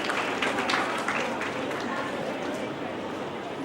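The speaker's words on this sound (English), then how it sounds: "Once again, big round of applause for Professor Yoshitaka sir." A conference audience bursts into sustained applause, a dense, steady wash of clapping from a crowd that holds fairly evenly and tapers slightly toward the end, with voices mixed in.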